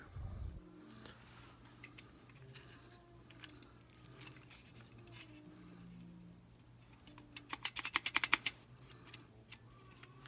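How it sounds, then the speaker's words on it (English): Keyboard assembly is pulled out of an Atari 800 computer: scattered plastic clicks and scrapes, then a quick burst of loud rattling clatter near the end, with a low hum underneath and no voices. "Keyboard coming out. There. That's the keyboard assembly."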